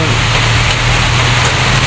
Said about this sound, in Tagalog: sobrang ulan talaga ang lakas ng ulan